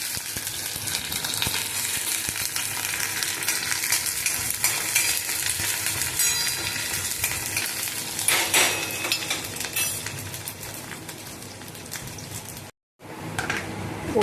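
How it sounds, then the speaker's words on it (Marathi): Onion, crushed garlic and curry leaves sizzle steadily in hot oil for tempering, a continuous crackling fry with occasional clinks of utensils against the pan and a brief dropout near the end. "फोडणीसाठी हे तेल तापत ठेवलं आहे. त्यामध्ये आता मी हा कांदा, लसूण थोडा ठेचलेला, कढीपत्ता"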